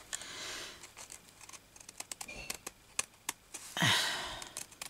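Scissors snip through fabric and lace for a handmade journal page, a quiet run of short clicks and rustles up close, with a longer crinkling swish near the end.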